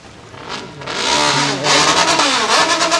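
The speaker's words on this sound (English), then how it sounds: "You can hear in the background these guys clearing out those engines to make sure that they are able to get a clean start" Racing engines at a WGP World Cup and World Series 2022 final round being revved to clear them before the start, loud overlapping blips and sustained revving from several nearby machines.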